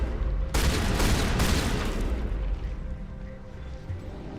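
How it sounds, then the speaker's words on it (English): Shotgun fire in Mass Effect Legendary Edition, one loud close blast with a broad burst that rings out and decays over several seconds amid low game rumble. "Right, let's go with the shotgun for this section."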